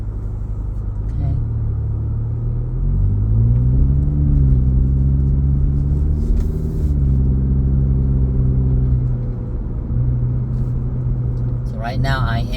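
A car drives along the Jackie Robinson Parkway in Queens, New York, heard from inside as a loud, steady engine and road rumble whose pitch rises and settles as it accelerates and cruises.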